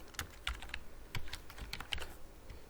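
Someone types a short phrase on a computer keyboard: quick, light key clicks in small bursts, close and quiet, with short pauses between strokes and no talk.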